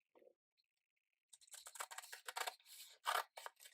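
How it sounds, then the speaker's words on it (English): Scissors snip through a paper glue tab on a papercraft hexball box, a quick run of close, crisp cuts after a brief pause, with no talk. "So I'm going to cut at the same angle as this line and cut like so."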